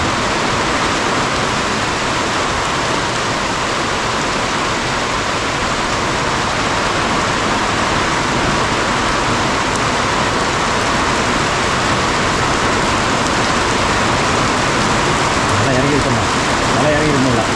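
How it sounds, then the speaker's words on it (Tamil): Steady rain falls in a forest village, a dense even hiss of drops on surfaces throughout, fairly close, with no clear talking. "இப்போ தான் வந்திருக்கு மழை. இப்போ தான் சவுண்டு கேட்குது கொஞ்சம்."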